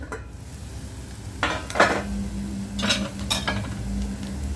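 A metal lid clinks and scrapes as it is set over kara adai cooking in a pan, two or three short clatters close by above a soft, steady sizzle.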